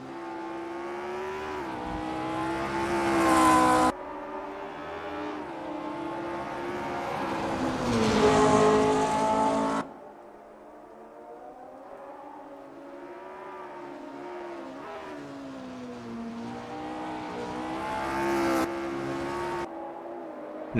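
Race car engine in the Assetto Corsa video game on a wet-weather out lap, droning and rising through revs with abrupt cuts at gear changes, continuous and fairly loud throughout.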